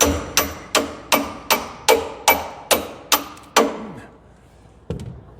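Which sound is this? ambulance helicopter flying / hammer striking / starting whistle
hammer striking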